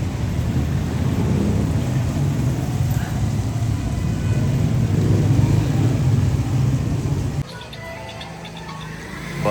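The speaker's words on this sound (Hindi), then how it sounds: "बारिश शुरू हो गई बड़ी तेज" Heavy rain pouring down with thunder rumbling, a dense steady roar that drops off abruptly near the end, leaving a thinner hiss.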